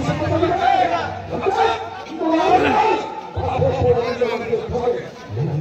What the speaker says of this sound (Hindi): रास्ता तो पूरा जबरदस्त भीड़ है।